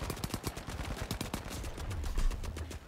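Turret gunfire in The Finals rattles out in rapid, sharp bursts, a close, busy stream of shots with a few heavier thumps toward the end.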